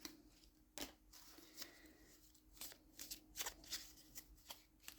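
A deck of past life cards is shuffled in soft, quiet riffles and taps, a series of brief papery bursts spread irregularly over a few seconds close by.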